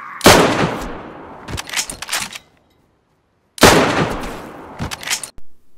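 Two loud, sharp blasts from a sawn-off Mosin rifle in DayZ, each followed by a trailing echo and clattering handling noises, with a short silence between them.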